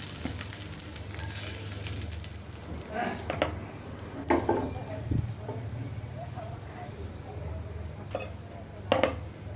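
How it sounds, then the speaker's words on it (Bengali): Pangas fish fries in oil in a home kitchen, a moderate steady sizzle with a few sharp clinks of utensils against the pan. "তো ভেজে নিলাম উল্টে পাল্টে, এখন উঠিয়ে নিচ্ছি।"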